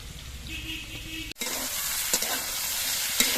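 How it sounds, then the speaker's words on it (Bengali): Vegetables frying in a pan make a bright, steady hiss and sizzle that jumps louder after a brief cut, with a couple of soft stirring knocks, close and without speech. "এদিকে সবজিগুলোও কিন্তু খুব সুন্দরভাবে ভাজা হয়ে গেছে"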